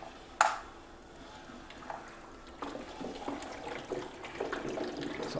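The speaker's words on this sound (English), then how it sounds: "all the water from the hypotenuse square will come back in and fill the leg squares" Water in a Pythagorean theorem demonstration model flows back from the hypotenuse square into the two leg squares, giving a faint trickling and gurgling that builds slightly toward the end after a small knock at the start.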